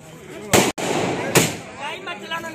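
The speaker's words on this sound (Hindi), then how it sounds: "खुशी मनाते व पटाखे फोड़ते हुए कार्यकर्ता" Two sharp firecracker bangs burst a moment apart over a busy background of voices at a political party workers' celebration in Meerut.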